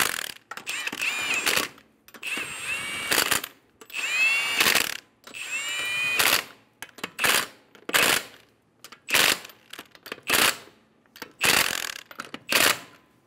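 Ratchet snugging down control arm bolts on a 2011-2014 Hyundai Sonata during a ball joint control arm replacement, heard as loud, close bursts of rapid clicking repeated in a steady rhythm with brief pauses between strokes.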